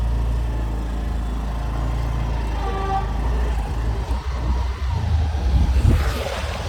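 A scooter ride through traffic, with a loud, steady engine and road rumble throughout, brief horn-like tones partway through, and buffeting wind toward the end.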